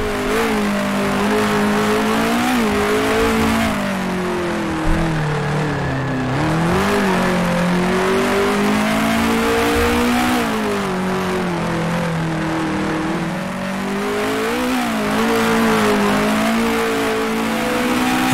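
A 1966 Formula One race car engine from Grand Prix Legends holds a loud, steady high-pitched howl throughout, the pitch rising and dipping gently with throttle as it runs through gears, close and continuous with no voices.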